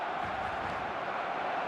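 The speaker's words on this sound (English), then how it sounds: "the crowd are reacting to that now" Stadium crowd in the eFootball football video game, a steady, distant roar with faint cheering and a commentator's voice underneath.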